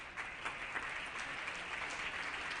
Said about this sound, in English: If we can give them a round of applause for being here with all of us.